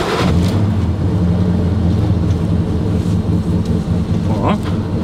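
A large classic car engine runs close by with a loud, deep, steady rumble and no clear breaks.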